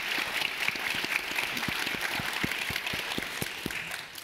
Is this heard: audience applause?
yes